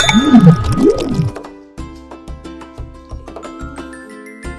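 A gurgling glug of liquid pours into a container, followed by a series of soft drips and small clinks that fade out.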